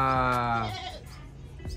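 A goat bleats at a goat market in Cabanatuan City, one loud wavering cry up close in the first half that trails off into low market background noise.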